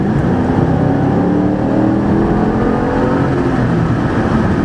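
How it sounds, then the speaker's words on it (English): A Ford Mustang GT V8 pulls onto a highway under acceleration, a sustained loud engine drone rising steadily in pitch as it climbs through the revs, with no talk over it. "Definitely a very Mustangish sound out of that V8."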